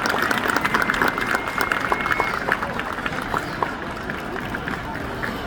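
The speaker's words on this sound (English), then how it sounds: "One more round of applause for them." Audience applause at an American Heart Association recognition event, a steady wash of clapping that holds for several seconds with voices faintly mixed in.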